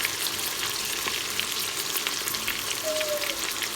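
Steady, dense sizzling of a spice paste frying in an Instant Pot for veg pulao, a continuous close crackle with no talk over it.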